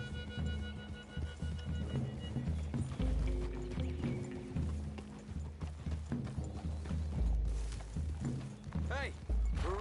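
Horses clip-clop through trees in Red Dead Redemption 2, a steady rhythm of hoof thuds with creaking tack close by, running under a voice.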